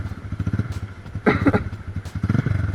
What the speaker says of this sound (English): Give the bike a little bit of rev, that's too much.